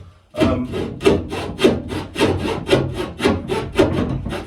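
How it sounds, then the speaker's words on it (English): A coping saw cutting an awkward piece of timber with rhythmic, close back-and-forth rasping strokes, about eight in quick succession, loud and alone. "I'm finding it, well, it's a pain because it's a coping saw."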